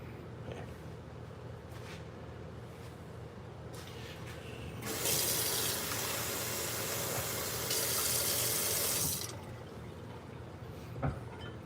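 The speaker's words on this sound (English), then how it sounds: "That's my first drop of water there." Water runs steadily from a tap onto a honing stone while a blade is convex-honed, a loud sustained rush for several seconds, with faint drips before and after.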